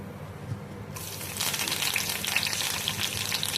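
Curry leaves dropped into hot oil already tempering spices, starting with a low crackle that bursts into loud, bright sizzling and spitting about a second in and keeps hissing steadily, close up.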